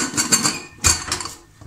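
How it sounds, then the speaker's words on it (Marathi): A metal lid is fitted onto a pressure cooker holding a bottle gourd and chana dal dish, giving two quick close clanks and scrapes of metal on metal, separated by a brief pause. "आता आपण झाकण लावूया"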